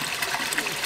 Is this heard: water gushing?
yes